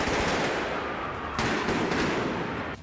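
Firecrackers set off by protesters at police crackle in a dense, rapid burst like gunfire, loud and continuous at a street protest, with no talk.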